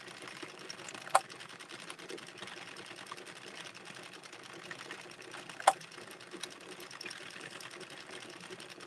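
A hand-cranked knitting machine turning at a steady pace, making a faint continuous mechanical whir with two sharper clicks standing out, heard alone without talk.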